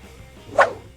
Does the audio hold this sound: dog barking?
yes